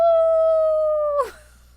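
A voice imitates a wolf howl, holding a steady, loud wail before it breaks off abruptly into a short, rough end.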